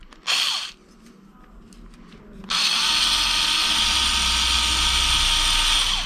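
A cordless screwdriver drives a screw through a plastic mudguard on a Xiaomi M365 electric scooter, a brief whir and then a sustained loud, steady motor whine up close.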